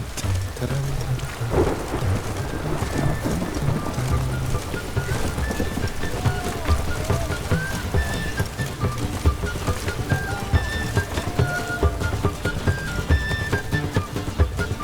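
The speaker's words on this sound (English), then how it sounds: "It's raining, of course it's going to be damp." Steady heavy rain pours in The Witcher 3: Wild Hunt, Hearts of Stone, with low thunder rumbling beneath, loud and continuous throughout, with faint musical tones drifting over the downpour.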